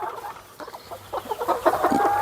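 Broiler chickens raised for meat on a small farm, clucking in a busy overlapping flock, with soft murmurs building to louder, more frequent clucks close by.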